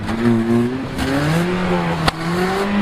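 A failing car engine revs hard at full throttle, its pitch wavering up and down loudly and continuously, with a brief knock midway.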